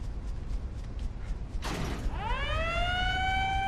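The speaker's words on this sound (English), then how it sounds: "Oh, look, it made a siren." A mechanical creak and clunk as a switch is pulled, then a siren in Resident Evil Revelations 2 begins to wail, rising in pitch and holding steady, loud and clear with no talking.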